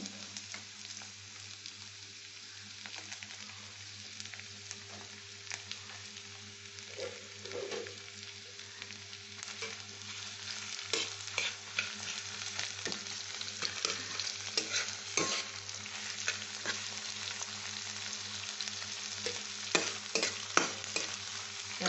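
Chopped garlic and onion fry steadily in a pan, giving a continuous close sizzle with occasional stirring scrapes and small crackles that grow slightly louder toward the end, with no talking.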